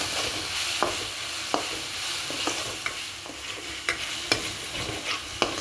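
Ginger garlic paste and curry leaves sautéing in a pan over medium flame, a steady close sizzle broken by sharp scraping clicks of a spatula stirring every second or so.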